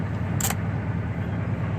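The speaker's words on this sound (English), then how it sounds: "Fires right up. Gotta love your Ford." A Ford car engine idles steadily right after starting, a close low rumble with a brief metallic click partway through.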